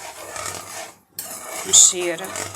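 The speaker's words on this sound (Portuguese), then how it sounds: "O segredo agora aqui é mexer esta calda" A spoon stirs egg-and-sugar syrup for doce de ovos in a pan, with close scraping and clinking. The sound drops out briefly partway through, then returns as a louder metallic clatter.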